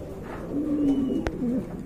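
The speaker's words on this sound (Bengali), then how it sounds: "দেখেন আপনারা বিগ সাইজের এক জোড়া কবুতর" A pair of large pigeons coos close by, a soft low warbling call swelling and falling over a second or two, followed by a brief sharp knock.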